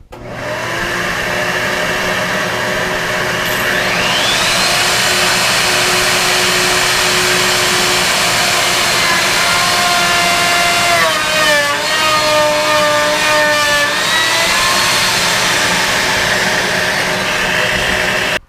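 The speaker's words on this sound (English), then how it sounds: "so I'll turn that on, plunge it down, make a little straight cut, and pull it back up" Festool router with an edge guide whining loudly and steadily during a plunged straight cut, a dust collector roaring underneath throughout, the pitch shifting briefly as the bit bites into the wood.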